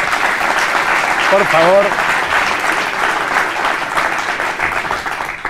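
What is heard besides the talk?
audience applause for Jimi Hendrix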